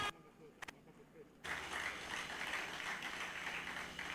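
An outdoor crowd at a cricket league final presentation breaks into a round of applause for both teams. After a near-silent pause the clapping swells abruptly into a steady, dense patter that carries on to the end.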